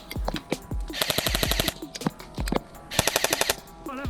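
Specna Arms SA-E10 airsoft replica firing full auto: two rapid bursts of fast, even-paced mechanical shots at close range, each lasting about half a second, with single clicks and thumps between them.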